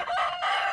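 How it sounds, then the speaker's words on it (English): A rooster crows loudly and close by in one continuous call lasting under a second, with chickens nearby and no talking. "we have my rooster and our chickens that are keeping us company and saying hello."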